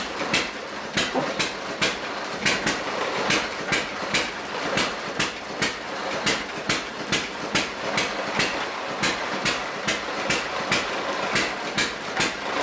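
A hit-and-miss stationary engine running at around 560 RPM, its firing strokes landing as sharp, loud, regular beats over a steady mechanical clatter, close by and with no talking.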